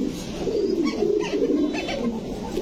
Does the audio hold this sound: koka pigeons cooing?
yes